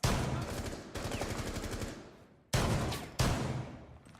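Rapid rifle fire in the Rainbow Six Siege beta, two loud sustained bursts of fast, evenly spaced shots, the first longer and tailing off, then short bursts after a brief gap, with no talk.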